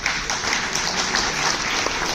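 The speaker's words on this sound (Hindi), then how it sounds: "मैं चाहूंगा जोरदार तालियां सर के लिए" An audience at a sales training seminar breaks into loud, sustained applause, a dense wash of clapping filling the room without pause.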